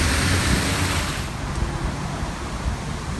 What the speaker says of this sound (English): Just water everywhere running along the railing here, the pool down there.